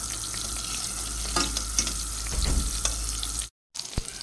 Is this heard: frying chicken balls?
yes